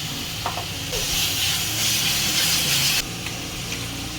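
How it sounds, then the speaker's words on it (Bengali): Water poured into hot, well-fried spice masala in a pan for a Bengali fish curry gravy, giving a loud, steady hiss and sizzle that swells for about two seconds and then cuts off sharply. "এখন আমি গ্রেভির জন্য জল দিয়ে দিলাম"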